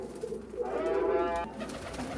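A pigeon with light pink eyes coos close by, one drawn-out rolling coo swelling in the middle of a quiet clip.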